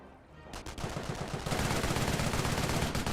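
Rapid machine-gun bursts from an MMG carrier in Company of Heroes, hammering away at close range against Panzer Grenadiers, starting after a brief quiet moment and growing denser and louder as the firing continues.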